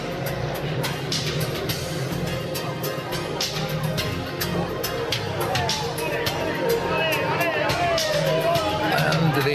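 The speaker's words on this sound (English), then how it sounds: "The Italians at least cheering on an Italian sponsor." Italian spectators cheer and shout at the roadside of a virtual Vuelta España cycling stage on Pico de Los Reales, a dense continuous crowd roar with scattered whistles, running steadily under a commentator's voice.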